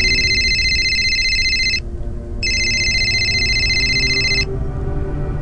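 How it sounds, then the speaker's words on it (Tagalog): An electronic cellphone ringtone plays two bright, beeping bursts separated by a short pause, over a low background rumble. "Maya-maya ay may narinig kaming ringtone."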